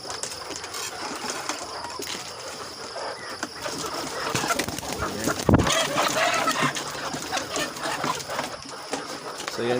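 Backyard laying hens cluck steadily while pecking at their feed, a busy chorus of near and farther calls, with a person talking over the flock.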